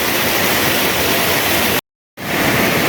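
Steady roaring rush of the twin waterfall at Lembah Purba in Sukabumi, loud and close, with a brief cut to silence before the roar returns.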